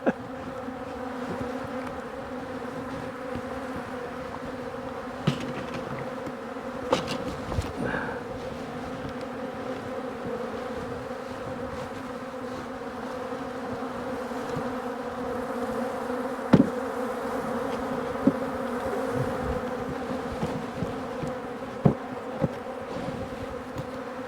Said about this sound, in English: This is what you call mean bees.